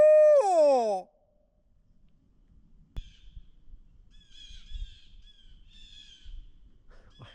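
Several birds call with harsh, squawking cries over a faint low rumble, scattered and moderately distant, after a loud whooping voice at the start, on the opening day of turkey season in Indiana.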